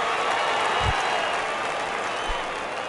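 Home crowd applauding in a PS4 baseball video game, a steady wash of clapping and crowd noise throughout, moderately loud with no pauses.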